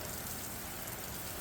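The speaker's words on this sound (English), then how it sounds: "This is about the third downpour today" A summer downpour at a home, heard from outdoors near trees: a faint, steady wash of rain with no distinct drops or other sounds standing out.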